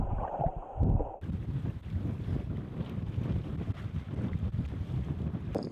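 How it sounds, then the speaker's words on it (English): Strong northwest wind gusting at 30 to 35 knots roars steadily over an anchored sailboat, a dense continuous rush with microphone buffeting throughout and no voices. "With strong northwest winds blowing"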